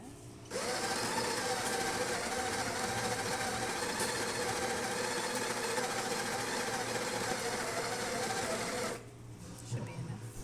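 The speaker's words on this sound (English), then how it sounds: "I'm just going to grind a little coffee and just show you it in my hand" A Breville Barista Touch's built-in grinder whirs steadily as it grinds coffee beans at a medium setting, a loud continuous buzzing that starts abruptly and stops after about eight seconds.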